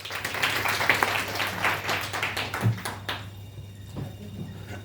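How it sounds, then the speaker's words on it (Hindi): Scattered clapping from an audience at a product presentation, moderately loud for around three seconds before tapering into a few isolated claps over a steady low hum. "नेक्स्ट तालियां इसके लिए।"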